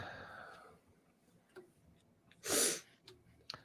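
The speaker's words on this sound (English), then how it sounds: "I had so many sneezes." A single sharp sneeze bursts out mid-clip in a quiet room, loud and breathy against faint ticking and light background noise.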